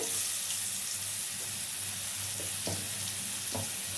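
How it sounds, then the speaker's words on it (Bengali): Garlic sizzling in hot oil in a pan for a mutton curry, a loud steady frying hiss with a low hum underneath and a few clinks, and no voices. "এই যে শুধু রসুন দিয়ে দেবো তেলের উপরে"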